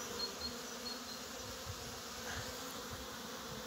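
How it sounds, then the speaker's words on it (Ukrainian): Honeybees fly around hives in a spring apiary, a continuous soft buzzing hum of many insects close by with occasional louder passes. "літають пчолки"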